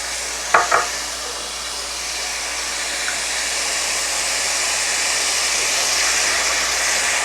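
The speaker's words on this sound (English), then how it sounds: "Let's go ahead and get our salsas in there." Salsas go into a hot pan with browned fond for enchilada sauce, and a steady loud sizzle follows. It opens with a couple of sharp clanks and keeps a constant hiss.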